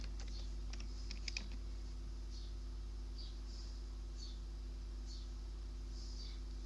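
Clicks of a computer keyboard being typed on, faint and sparse, a quick cluster of keystrokes followed by scattered single taps over a steady low hum.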